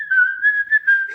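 A person whistles a short, clear, wavering tune, close and loud, with small breaks between phrases and nothing else audible.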